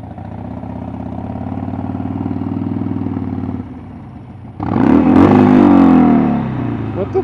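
A motorcycle engine drones steadily, then surges into a loud, rising and falling rev as the rider works the clutch, close and alone with no talk.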